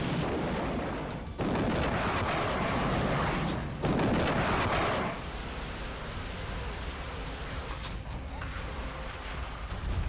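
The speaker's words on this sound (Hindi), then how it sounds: "मॉस्को में अब लगातार धमाके हो रहे हैं" Explosions during a drone attack on Moscow, a dense barrage of rumbling blasts and booms with sudden louder bursts, continuous and harsh throughout.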